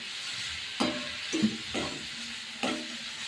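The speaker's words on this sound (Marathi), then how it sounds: "याला पण चांगलं मिक्स करून घेतो त्याला मध्ये फ्राय करून घेते चांगलं" Potato, onion and capsicum stir-frying in a pan, with a soft continuous sizzle under four distinct spoon-scraping stirs spaced about a second apart.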